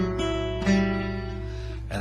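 Fingerpicked steel-string folk guitar playing a phrase of Scarborough Fair, notes plucked one after another over sustained ringing strings, close and clear with no voice.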